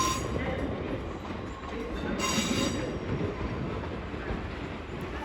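A South Western Railway train from Woking arrives at a London terminus, its wheels rumbling steadily with a brief high squeal near the middle, heard at moderate distance under faint station ambience.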